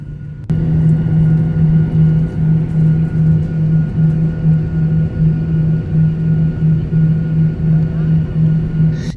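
Inside a passenger airliner climbing after takeoff from Dushanbe bound for Islamabad, a loud steady engine drone with a pulsing low hum starts abruptly and holds throughout, no voices.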